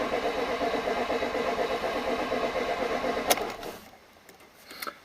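A Mazda RX8 rotary engine cranks at a steady rapid starter rhythm on a Yuasa battery, then catches and the starter note drops away into a quieter idle with small clicks, close and fairly loud.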